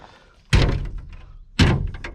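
The cab door of an ASV RC-100 machine shuts with two heavy, close thunks about a second apart, each followed by brief rattling.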